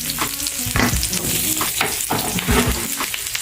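Garlic cloves and ginger sizzle loudly in a hot pan, with a steady fry broken by a few scraping stirs, close and prominent with no voices.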